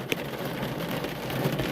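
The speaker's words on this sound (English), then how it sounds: "This is coming down. This rain." Heavy rain pours down steadily in a storm rolling into Adelaide, South Australia, a dense continuous roar of downpour with a faint distant rumble, loud and unbroken.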